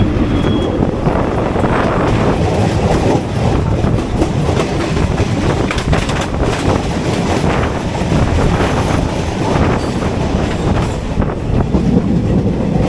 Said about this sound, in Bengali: এটা নৈহাটি লোকাল ঢুকলো আর নৈহাটি যাচ্ছে।